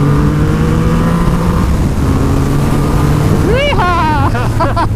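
Triumph Rocket 3 motorcycles accelerate hard with a loud, continuous engine roar that climbs in pitch, while a voice is heard partway through.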